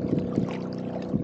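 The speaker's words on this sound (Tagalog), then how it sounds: "Ayan, may bangka" A boat passes close to the shore off Alabat Island, a steady low engine rumble with water wash running through, near and fairly loud, with no voices.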